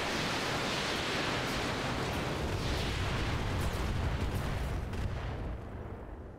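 Mech weapon fire in the game Roguetech comes as a loud, sustained roar of blasts that holds steady for several seconds before tailing off at the end.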